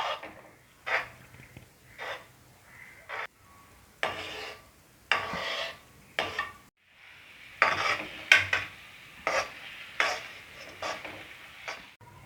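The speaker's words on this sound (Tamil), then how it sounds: "முட்டையை ரொம்ப பொடிசாக இல்லாமல் ஒரு மீடியம் சைஸில் பொடி மாஸ் பண்ணி எடுத்துப்போம்" Eggs scrambled in a pan for egg fried rice, a spatula scraping and tapping against the metal in irregular strokes over a faint sizzle, fairly quiet and close.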